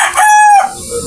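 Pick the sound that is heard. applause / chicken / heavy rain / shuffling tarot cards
chicken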